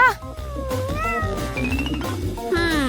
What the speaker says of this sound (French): Mais où est-ce que je vais mettre mon chat?